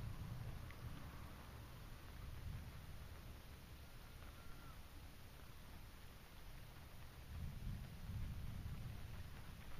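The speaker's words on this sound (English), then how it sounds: "If you can hear the rumbling's not too loud at the moment." Low rumbling of distant thunder during a storm at Hauts du Brel rolls under steady wind and rain noise, swelling faintly near the start and again toward the end.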